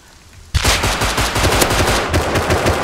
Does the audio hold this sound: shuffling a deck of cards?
no